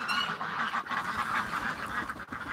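Ducks quack and honk steadily in a pen while a dog herds them, a dense, continuous flock chatter at close range with no gaps.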